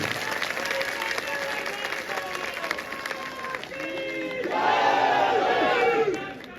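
Sustained clapping from an audience at a state employees' joint council biennial convention in a hall, a broad steady wash of applause with a crowd murmur, swelling louder toward the end before tapering.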